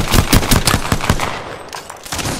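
Rapid gunfire in the video game Apex Legends, a loud close burst of quick repeated shots for about a second, then a brief lull before more scattered shots.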